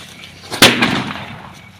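A mirchi bomb firecracker goes off in a farm field at night with a single sharp, loud bang, followed by a brief decaying echo.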